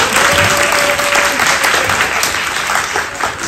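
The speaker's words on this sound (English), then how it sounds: "give yourself a round of applause" Applause fills the hall at a Mother's Day community program, with dense, steady clapping from a large audience throughout and a faint tone in the background.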